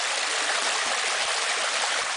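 A rocky creek runs in a steady, full rush of water over stones, close and continuous with no pauses, a broad even hiss and gurgle throughout.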